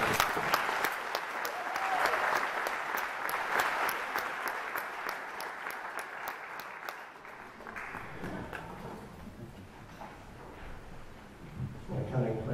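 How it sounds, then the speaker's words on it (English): An audience at a brass band contest concert applauds a performer, with strong, sustained clapping that gradually thins and fades into a quieter room tone with faint movement. "I think perhaps that deserves another round of applause."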